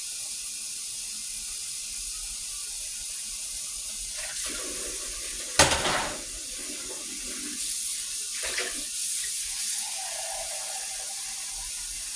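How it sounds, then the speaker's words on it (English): Tap water runs into an 8-cup cooking pot holding speckled butter beans, a quiet steady stream with a few sharp clanks and handling knocks midway, no voices over it. "And we're going to put some water in."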